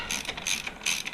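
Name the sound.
ratchet with Torx bit tightening frame slider bolts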